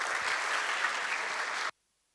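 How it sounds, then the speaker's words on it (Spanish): A church seminar audience claps steadily and fairly loudly for under two seconds, then the applause cuts off abruptly into silence. "Vamos a invitar al grupo Armonía con grandes aplausos."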